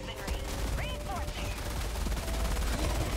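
Heavy machine gun in Helldivers 2 firing in rapid sustained bursts, dense loud rattling fire with other battle noise and a voice under it.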